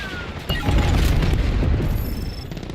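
A Semtex grenade explodes in Call of Duty: Black Ops 7, a sudden loud boom with a rumbling low-end tail and scattered crackle lasting a couple of seconds.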